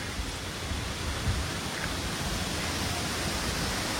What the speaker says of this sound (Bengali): হঠাৎ করে কি ঝড় উঠেছে